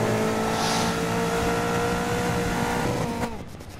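Race car engine from the 2019 game GRID screams at high revs in fifth gear, a steady sustained whine with no voices, ending in a shift or lift near the close.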